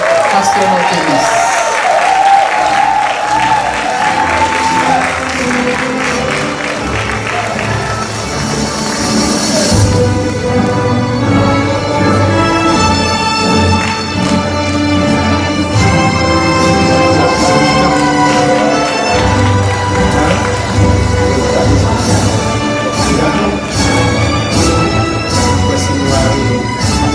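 An audience at a 2025 Bible theology institute graduation applauds for a pastor, the clapping blended with loud music and voices over a long stretch.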